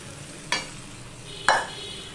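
Fish heads and fried papaya sauté in a pan, a low steady sizzle broken by two sharp scraping stirs about a second apart, close up and without speech.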